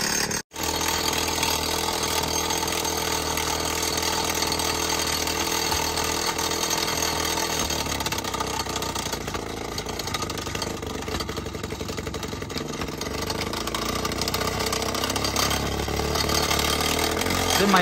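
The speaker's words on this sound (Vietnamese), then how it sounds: "Anh Chính là sang giúp bà con khoan đá với cả dạy cách bà con khoan đây." A powered rock drill boring into stone in a remote village, a loud, continuous motor roar with steady rattling percussion that holds for the whole stretch after a brief cut near the start.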